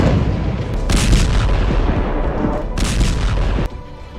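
Israeli strikes on military sites in Syria: a steady barrage of booming explosions and gunfire-like cracks, with two louder bursts standing out, dense and continuous before cutting off abruptly near the end.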